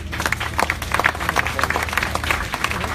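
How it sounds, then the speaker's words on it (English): Applause from an audience at a university ceremonial concrete pouring, a steady wash of many hands clapping at moderate loudness with a low hum underneath, continuing for the whole stretch. "So another round of applause for Mr. Montinola"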